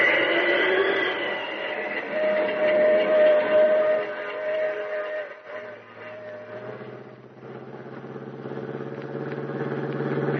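Steam train effect for the Pacific Flyer in an old-time radio drama: a loud, steady rumble of running carriages with a sustained whistle-like tone, which thins and dips midway before building again.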